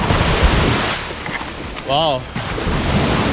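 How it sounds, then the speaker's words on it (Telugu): Early-morning ocean waves roll and wash onto Ramayapatnam beach, a constant broadband rush mixed with wind buffeting the microphone, while a voice briefly exclaims partway through. "అలలు బాగా ఎక్కువగా వస్తున్నాయి."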